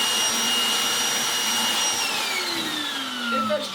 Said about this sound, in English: Eventually, the suction comes up good enough.